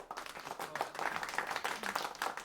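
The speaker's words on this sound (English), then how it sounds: "Let's give him that round of applause." A studio audience at a backstage pregame show bursts into applause, a lively crackle of many hands clapping in uneven surges, fairly close and sustained throughout.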